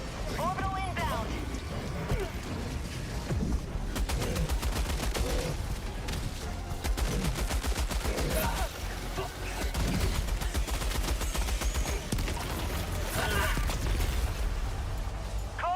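Sentry turret gunfire in Helldivers 2 rattles in long rapid bursts, dense and loud, with other weapon fire, explosions and mechanical clanks mixed in, while a voice talks over the battle.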